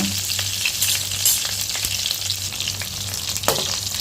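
Halved small onions sizzle and fry in hot oil in a pan for a Tamil dried-fish curry, a steady close crackle with occasional stirring scrapes, no voices.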